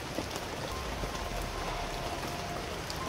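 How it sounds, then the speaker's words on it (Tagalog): Steady rain falls in a damp, chilly spell of weather, a dense even hiss of drops on surfaces with no voices. "Walang gaanong init, palaging umuulan."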